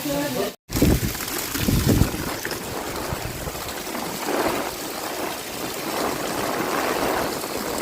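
Heavy floodwater after torrential rain rushes in a steady, broadband roar, loud and close throughout, with a brief dropout near the start; voices speak over the flow.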